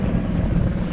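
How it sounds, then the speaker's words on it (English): Coast Guard helicopter passing overhead near the Coast Guard Academy, a steady loud low rumble of rotor and engine noise that fills the short moment without any voices. "just given the noise of the helicopter blades."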